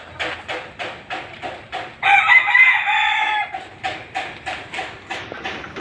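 A chicken clucks in short rhythmic bursts, then a rooster lets out a loud, drawn-out crow before the clucking resumes, close by with no talk.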